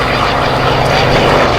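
A Messerschmitt Bf109G WWII Luftwaffe fighter's propeller engine roars steadily and loudly throughout, a dense sustained drone with no talk over it.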